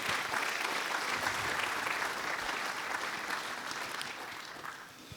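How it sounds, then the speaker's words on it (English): Audience applause at a tech conference opening session in Berlin, a broad sustained round of clapping from a large crowd that gradually fades in the final second. "quick round of applause for them also."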